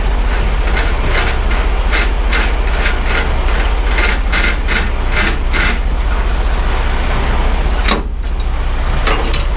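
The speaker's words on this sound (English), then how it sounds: "Get this landing gear up, man." Semi-trailer landing gear is cranked up by hand in rainy weather, a loud, rhythmic run of ratcheting clicks over a constant low hum, with a short pause near the end.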